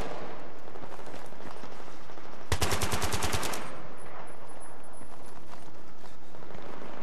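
Automatic gunfire in the shooter game Battlefield 3 cracks out as one rapid burst of about a dozen shots over a steady bed of game ambience, with no talking.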